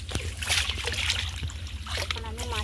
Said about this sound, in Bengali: বন্ধুরা এখন আমি মাছটাকে ভালোভাবে পরিষ্কার করে ধুয়ে নিচ্ছি